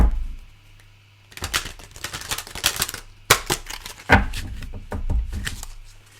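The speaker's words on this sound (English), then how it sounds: "One more shuffle." Tarot cards are shuffled by hand in quick, crisp bursts of riffling and tapping, close up, with short pauses between runs and no talking.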